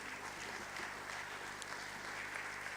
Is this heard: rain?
no